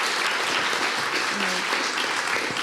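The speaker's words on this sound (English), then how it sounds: "Round of applause for Blake." At a DSW 2024 Ignite stage session, an audience gives speaker Blake dense, steady applause that stays at full strength throughout, with faint voices mixed into the clapping.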